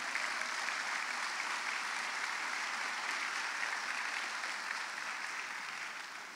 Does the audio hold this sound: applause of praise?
yes